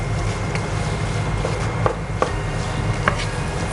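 Mutton mince fries with onions, ginger and garlic for keema, giving a steady, fairly loud sizzle with occasional sharp clicks of stirring and no talk.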